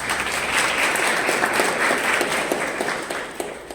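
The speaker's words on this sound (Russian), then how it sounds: "Давайте поприветствуем друг друга теплыми аплодисментами." An audience at a classical concert honoring Rachmaninoff claps steadily in dense, sustained applause, loud and continuous throughout.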